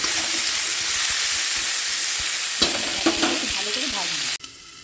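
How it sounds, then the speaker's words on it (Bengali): Potatoes fry in a steel wok with a dense, steady sizzle close up, a few stirring scrapes near the end before the sound drops away abruptly. "ঢাকা দিয়ে দিয়ে আলুটা একটু করে ভালো করে ভেজে নেব"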